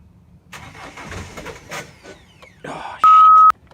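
A cold van engine cranks and tries to start, a rough mechanical churn building over about three seconds, cut off by a loud steady warning beep near the end.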